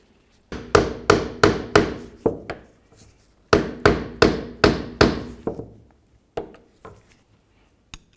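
Metal strikes on a peened tab on a 2003-2011 Mercury Grand Marquis power steering pressure line bracket as it is pried up and straightened: two quick runs of about five loud, ringing blows each, then a few scattered single hits, close by, with no talk.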